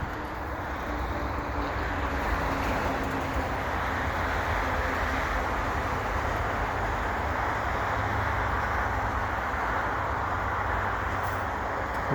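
A freight train rolls past Lachine EXO station in winter, a loud, steady, broadband roar of wheels and cars that holds constant throughout, with a wind-like rush and no clear voices.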